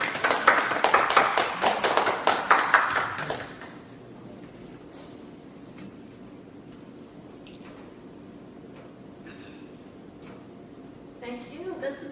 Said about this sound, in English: Let's give Paula a round of applause.